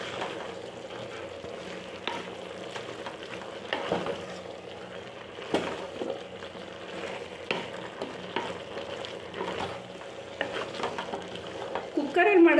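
Masala fries and sizzles steadily in a pan for a mixed vegetable sambar, with a spoon stirring and scraping at intervals and a clearer clatter of the pan near the end, close and fairly quiet, with no talking.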